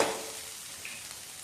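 Shark fish roast frying gently in a pan over a low flame, a steady soft sizzle close by with faint stirring, alone with no talk.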